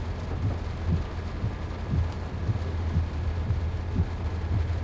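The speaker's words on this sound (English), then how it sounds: "And a lot of rain." Heavy rain and rumbling thunder in the Antelope Valley route of Train Sim World 4, a steady wash of rainfall with low rolling rumbles and a constant low train drone underneath, no voices.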